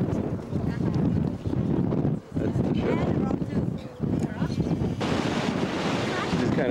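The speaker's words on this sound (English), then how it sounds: "windy up here" Strong gusty wind on a cruise ship deck buffets the microphone in loud, continuous rushes, with water noise below and a voice speaking intermittently.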